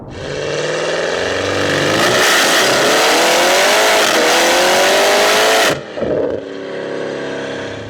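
A 2025 Porsche Cayenne GT Turbo with a tuned engine revs hard and accelerates loudly up through rising pitch, close and dominant, then cuts off abruptly with a brief lift before settling into a lower steady drone.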